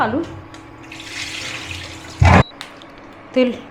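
Water from boiled potatoes is poured off into a sink, a short loud gushing splash standing out from quiet kitchen background, followed by a brief second splash.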